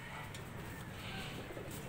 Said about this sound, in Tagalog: Ang mga kalapati natin.